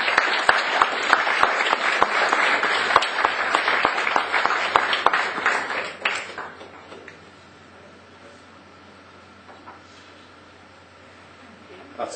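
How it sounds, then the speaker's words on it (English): Conference audience applauding for about six seconds with dense, crisp claps that then fade into a quiet room with faint murmuring. "So big round of applause to Tim, Mandy and their students."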